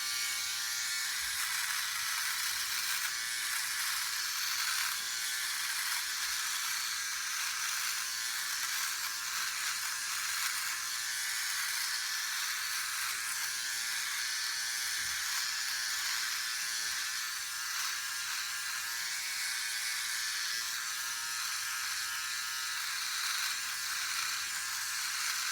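A Philips Norelco OneBlade electric shaver working through a stubborn patch of coarse hair, giving a continuous close buzzing whir with a faint crackle of cutting, steady and uninterrupted, with no talk.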